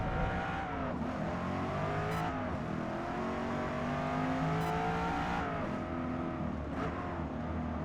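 Corvette E-Ray C8 engine growling and revving steadily in Forza Motorsport 8 on the Nürburgring GP circuit, shifting down through second gear into a tight corner, loud and continuous with fluctuating pitch and no talk.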